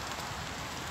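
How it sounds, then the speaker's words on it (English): Heavy rain pours steadily onto the ground and gear at a wild campsite, a dense, even hiss of close drops with no voices. "Been hammering it down with rain, getting quite muddy."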